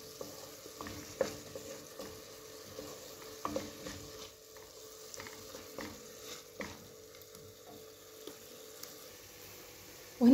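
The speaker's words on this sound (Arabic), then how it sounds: "درت في هذا الكوكوط شويه الزيت ودرت بصله مشلضه ودرت لها شويه الملحه ودابا غادي نشحرها واحد شويه" Chopped onion with oil and a little salt sautés in a cocotte, a quiet crackling sizzle broken by intermittent stirring scrapes and a clunk at the end.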